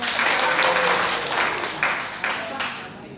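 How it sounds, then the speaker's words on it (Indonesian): A vocational high school class breaks into applause for a classmate, a short burst of clapping that fades over a few seconds, with a voice speaking over it. "Beri tepuk tangannya untuk"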